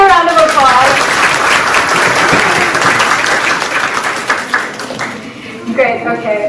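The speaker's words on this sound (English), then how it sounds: "Can you guys please give a round of applause?" An audience at a student ambassador program information session breaks into a round of applause, a dense continuous clatter of many hands that slowly thins toward the end, with faint voices mixed in.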